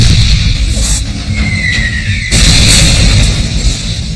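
Tank shell impact in battle, loud booming blasts close by with a sharp crack midway and rumbling aftermath over a low engine drone, no voices.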